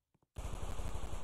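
Gunfire in an army video game starts after a couple of faint taps and becomes loud, sustained automatic fire with rapid, evenly spaced shots.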